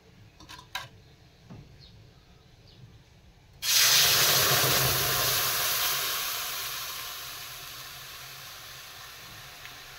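Grated mango hits a hot kadai on a gas flame with a sudden, loud sizzling hiss a few seconds in. The hiss slowly fades over the rest of the clip, preceded by a few faint clicks and kitchen handling noises.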